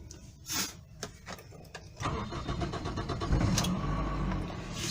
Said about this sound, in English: Let me just start the vehicle.